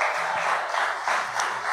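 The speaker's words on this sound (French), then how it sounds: "un gros applaudissement pour nous-mêmes parents qui t'ont fait choix ça" Parents give a big round of applause at a summer camp closing event, a dense, steady wash of clapping from a crowd with no voices over it.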